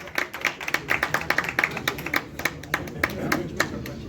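An audience at a stage launch of an Urdu poetry album claps in a sparse, uneven patter of individual hand claps, fairly near and without talk.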